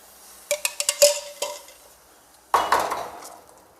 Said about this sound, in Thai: ในขณะที่เรากวนบนเตาไฟเราก็ต้องคนตลอดนะคะทุกท่าน